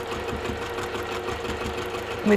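A sewing machine stitching across thick layered seams, a steady muffled mechanical hum with a fast rhythmic chatter, running continuously beneath a person's voice talking.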